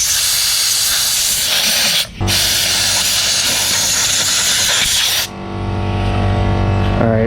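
Loud, steady spray hissing from a can aimed at a mini dirt bike under repair, a broad continuous rush that breaks off briefly near two seconds and again past five, followed by a lower hum.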